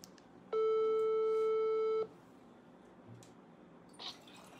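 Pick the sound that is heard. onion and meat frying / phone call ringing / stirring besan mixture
phone call ringing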